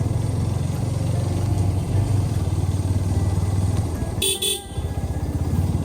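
A TVS Apache RTR 160 4V motorcycle rides along a road with a steady, close engine drone, and a short burst of honking cuts in near the end amid traffic.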